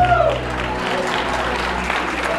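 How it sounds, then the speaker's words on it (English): Guests at a wedding reception give a round of applause for the bride's mother, the clapping swelling right after a brief voice at the start and continuing as a steady, moderately loud wash. "a nice round of applause for Mom."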